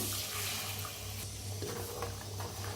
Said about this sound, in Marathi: थोडस पाणी घालूया